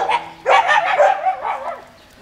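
Husky dogs bark several times close by outdoors on a mild, breezy day, the barks coming in quick bursts with a short whine between them.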